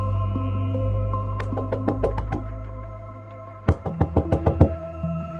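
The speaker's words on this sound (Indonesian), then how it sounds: "Pagi-pagi suara ketukan agak keras membangunkan mereka." Loud knocking on a door in the early morning: two rapid bursts of firm raps, the first a scattered series and the second a quick sharp run, heard over a steady low background hum.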